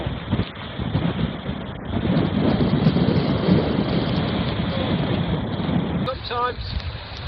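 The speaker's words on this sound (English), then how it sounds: "Waves and waves are just fighting their way into shore." Storm waves pound the shore in a constant roar under strong gusting wind buffeting the microphone, loud and close, with a brief faint tonal sound near the end.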